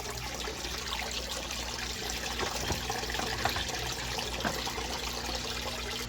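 Water runs through a downspout into an aquarium, a close, steady trickling flow with faint splashes over a low hum.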